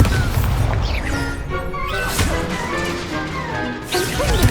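An Incendio fire spell is cast in the Hogwarts Legacy video game, giving loud crashing, whooshing bursts amid continuous noisy combat effects and music, with several impacts over a few seconds.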